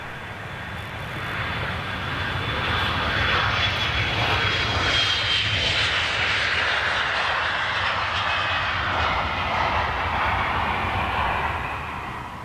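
A China Southern jet airliner at Amsterdam Schiphol passes with a loud, sustained engine roar that builds, holds steady, then eases slightly near the end, no voices.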